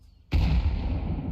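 A single heavy blast from a thrown grenade in Counter-Strike 2, a sudden loud boom after a brief quiet moment, then a broad rumbling decay that fills the rest of the second.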